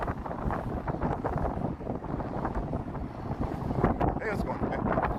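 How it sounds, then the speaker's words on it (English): Strong wind on the Chicago lakefront buffets the microphone in constant rough gusts, loud and close, with a rumbling roar that swells slightly toward the end. "I know it's windy."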